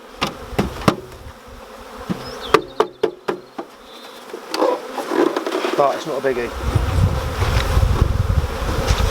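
Honeybees buzz steadily up close while sharp knocks and taps sound on wooden hive parts as a nucleus colony is moved into a beehive; sugar syrup spills, and a person speaks briefly over the hum.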